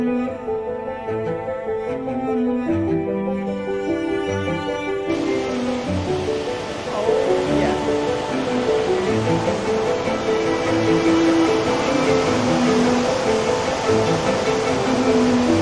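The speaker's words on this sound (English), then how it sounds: "You can actually experience the waterfall up close, and you can even feel the mist hitting your face." Tahquamenon Falls roars up close in a steady, loud broadband rush of falling water. Tonal music plays at the start, and the roar swells and carries on without a break.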